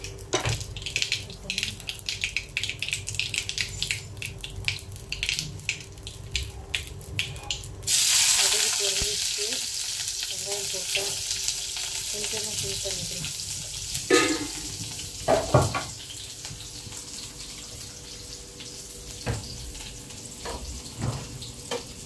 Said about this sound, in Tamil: அப்புறம் இதில் எண்ணெய் ஊற்றி கடுகு போட்டிருக்கேன்.